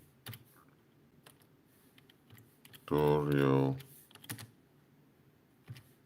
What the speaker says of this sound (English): Let's type in territorial